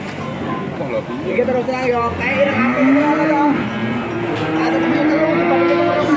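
Cattle lowing at a busy livestock market in Yogyakarta, with loud, drawn-out moos close by over a background of crowd chatter and people talking.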